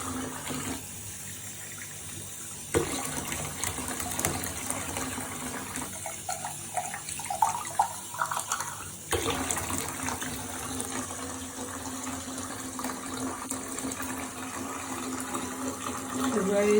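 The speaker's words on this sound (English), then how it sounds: "So I'm going to put the Epsom salt bath in." A tap runs to fill an Epsom salt bath with a steady, close rush of water that changes pitch as the tub fills, with a brief gurgling stretch midway and a person speaking over it.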